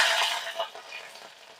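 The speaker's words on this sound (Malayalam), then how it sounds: "ഇതിലേക്ക് രണ്ട് രണ്ട് കറിവേപ്പില ഇട്ട് കൊടുക്കാം" A crackling, hissing sizzle as leaves hit hot oil, loudest at first and then fading to a softer fry.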